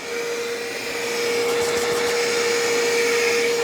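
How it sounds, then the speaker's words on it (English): A Bissell Pro Heat Plus carpet cleaner runs with a loud, steady motor whine and airy suction roar, holding constant with a slight rise partway through and no voices. "let's try the Pro Heat Plus"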